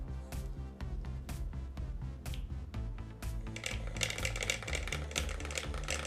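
An opened-up body massage gun runs its DC motor and percussion mechanism, giving a fast, steady, close clatter of rapid mechanical taps that turns denser and brighter partway through.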